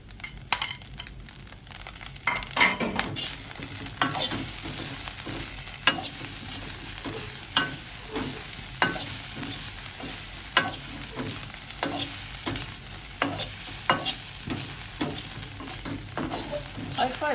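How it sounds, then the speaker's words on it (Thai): Cooked rice and shredded salted fish are stir-fried in a pan over low heat. A spatula scrapes and tosses in a steady repeating rhythm over a constant close sizzle, with no talking. "ผัดค่ะ"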